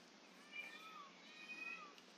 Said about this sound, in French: Mais il faut un bruit de chat.